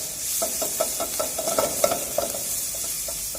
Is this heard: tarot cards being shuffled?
no